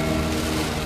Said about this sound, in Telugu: ఫుల్ వాన అంటే ఫుల్ గట్టిగా పడుతుంది